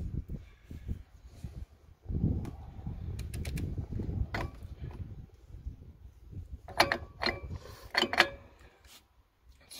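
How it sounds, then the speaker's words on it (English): A brake rotor turns on the hub of a Ford F-150 4x4, giving low grinding and creaking rotation with scattered metallic clicks and ticks from the work, close and moderately loud. "come over here and spin the rotor while I tighten this"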